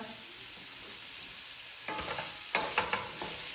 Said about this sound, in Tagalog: Ngayon, i-add ko na itong potato. Mix ko siya.